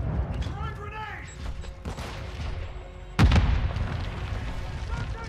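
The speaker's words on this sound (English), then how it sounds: "Smoke grenade out!" A smoke grenade deploys in a first-person shooter, a sudden loud burst and hiss cutting in partway through amid clanks and creaks, with voices talking over the action before it.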